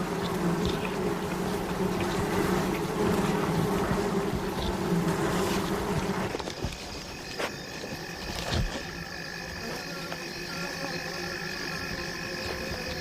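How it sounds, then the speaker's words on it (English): Wild African bees swarm over their damaged honeycombs after a honey badger's raid, a steady droning buzz that thins midway into scattered insect whines and faint background rustle. "The bees have regrouped around the damaged combs, presenting a formidable defense against another attack."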